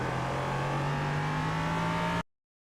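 Steady engine drone of a Ligier JS320 LMP3 prototype race car at Hockenheim in iRacing, held at a constant pitch after a downshift into second gear, then cut off abruptly.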